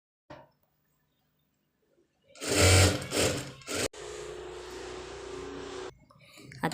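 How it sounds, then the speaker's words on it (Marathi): A sewing machine stitches a one-piece dress cut from an old saree: after a near-silent start, it roars in loud close bursts, then runs at a steadier buzzing pace before stopping, with someone speaking briefly. "इथून अशी ही टिप मारून घ्यायची आणि उलट्या साईडला"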